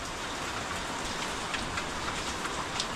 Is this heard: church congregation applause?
no